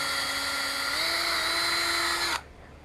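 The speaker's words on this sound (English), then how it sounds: "1/8 inch drill bit, and we just drill our first pilot hole" A high-pitched electric drill with a 1/8-inch bit whines steadily for about two seconds drilling a pilot hole in wood, its pitch rising slightly as it bites, then cuts off abruptly.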